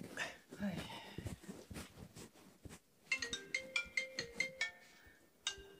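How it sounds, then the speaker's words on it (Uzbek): A melodic phone ringtone chimes in a repeating pattern of bright tones, starting partway through after people talking nearby, in a Uyghur drama series scene. "Hey balam, telefon. Sana telefon geldi."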